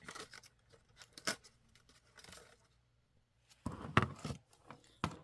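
Scissors cutting open a thrift shop find, heard as quiet, scattered snips and rustling with a louder cluster of cuts near the end.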